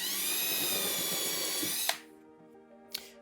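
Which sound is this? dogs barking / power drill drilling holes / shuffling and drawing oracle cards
power drill drilling holes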